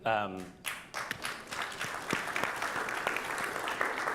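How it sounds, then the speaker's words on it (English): A conference room audience breaks into applause after a voice trails off at the start, clapping building into a sustained, fairly loud patter of many hands with sharp individual claps standing out. "This room applauds twice for all conservatives who embrace climate."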